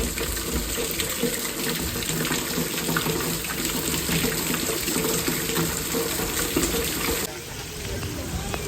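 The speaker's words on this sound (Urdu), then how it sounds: "بارش کنٹینیو چل رہی ہے، اچھی خاصی بارش ہو رہی ہے" Heavy rain pours steadily on a flooded Karachi street, with water rushing and splashing in a continuous dense wash that holds loud and even throughout.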